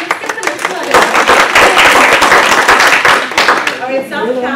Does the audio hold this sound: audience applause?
yes